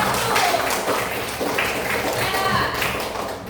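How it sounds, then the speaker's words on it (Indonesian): Classroom students clapping for a group that has just finished presenting, a dense stretch of scattered hand claps over steady room noise and chatter. "Kasih tepuk tangan kelompok 1"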